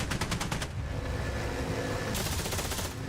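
Aircraft machine guns fire in the DCS World flight simulator, a rapid rattling burst at the start, a short pause under engine drone, then a second sustained burst.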